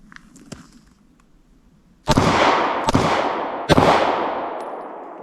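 Three sharp, loud gunshots from a Taurus GX4 Micro pistol crack out about a second apart, each with a ringing tail, after quieter outdoor handling sounds.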